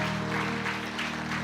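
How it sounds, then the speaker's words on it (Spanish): Applause from a church congregation during a service, a brief burst of clapping over a steady tonal hum. "Demos un aplauso a Dios por estas vidas que hoy abren su corazón a Cristo Jesús."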